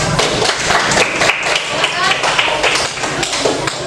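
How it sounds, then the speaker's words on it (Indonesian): A class claps after a student's chemistry presentation, a close, busy patter of hands mixed with taps and thumps, while a teacher's voice carries over the clapping. "Tepuk tangannya dong"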